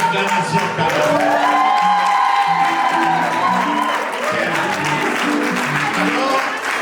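Wedding guests at a church ceremony cheer and applaud in a loud, steady crowd roar with whoops, while tonal music or singing runs underneath throughout.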